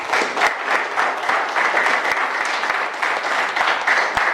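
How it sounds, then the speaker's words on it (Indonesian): Applause from a classroom group, a dense burst of rapid clapping that holds steady and fairly close with no voices. "tepuk tangan mereka"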